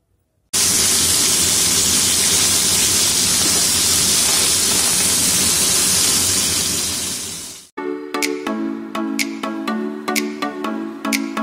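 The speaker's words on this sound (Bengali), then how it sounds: "সর্ষের তেল গরম করে ট্যাংরা মাছগুলো এক এক করে ভেজে নিচ্ছি।" Tangra fish frying in hot mustard oil, a loud, dense, continuous sizzling hiss that cuts off abruptly partway through, followed by quieter crackling pops and clinks of a pan.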